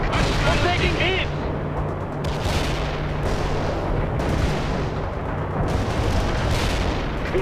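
Artillery strike explosions rumble in the video game World in Conflict, with repeated heavy booms and a rolling low roar under bursts of radio chatter and voices.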